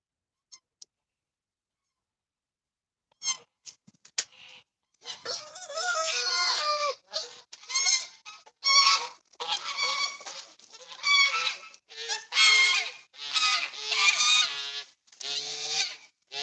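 Geese honk and cackle excitedly in a yard, starting with a few scattered calls and building into a dense, loud, continuous chorus of overlapping honks from a flock close by.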